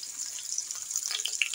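Chopped onion dropped into hot oil with crackling cumin seeds, a steady soft sizzle with small pops and spatters, close and continuous for a short stretch with no talk over it.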